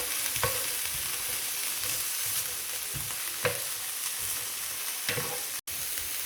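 Onions and minced garlic sauté in a pan with a constant sizzle, broken by several sharp scrapes of a utensil stirring them at uneven intervals; no voices.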